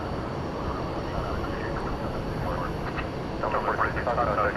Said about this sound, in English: here's the American Airlines 777 making the turn to head over to the east side for a takeoff